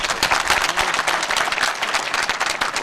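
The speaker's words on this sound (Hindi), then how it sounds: "मैं आपके लिए ताली बजाता हूं" Dense, steady applause from a crowd at a spiritual discourse in a prison hall in Jabalpur, many hands clapping continuously at an even level throughout.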